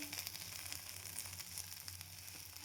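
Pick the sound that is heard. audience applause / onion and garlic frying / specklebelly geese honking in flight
onion and garlic frying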